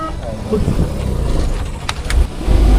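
A vehicle engine is cranked and revved nearby, with a low, rough rumble running under loud talking. The engine swells louder toward the end.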